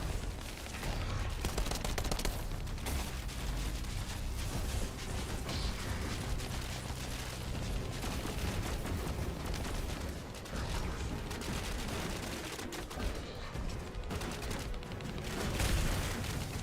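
Assault rifle gunfire in the shooter game The First Descendant, sustained rapid bursts of shots with mechanical clatter, loud and dense throughout with no pauses.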